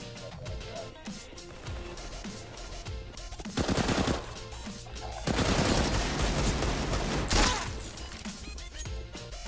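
Gunfire in Counter-Strike: Global Offensive, loud bursts of rapid shots clustering around the middle of the clip over a busy game background, with a sharp crack near the end.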